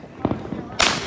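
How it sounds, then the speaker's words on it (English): Fireworks going off outdoors: a couple of quick popping cracks, then a louder, sharper burst with a hissing, crackling tail, heard at close to middle distance. "There's fireworks right there."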